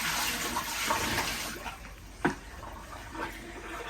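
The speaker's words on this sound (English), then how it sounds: "you could dump it in the sink if you want, John." Water dumped and splashing into a sink inside an RV, a soft pouring rush that tapers off, with a brief clunk partway through, heard fairly quietly and with no talking.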